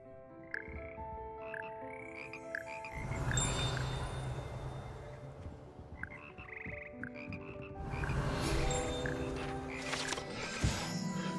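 A frog choir croaks in Hogwarts Legacy, with many layered, tonal croaks and chirps from several frogs overlapping in a busy chorus that swells and fades in two waves.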